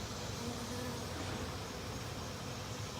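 Honey bees buzz steadily around an empty hive box from an absconding colony, a dense, continuous drone that stays even throughout with no voices.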